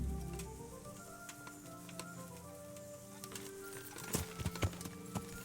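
Horse hooves in Kingdom Come: Deliverance, a run of clip-clop steps that grows busier and louder toward the end, heard alone over a quiet game backdrop.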